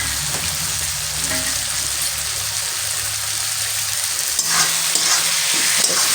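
Crushed garlic frying in oil, a loud, dense, even sizzle heard close up and alone, with a slight swell near the end as it is stirred.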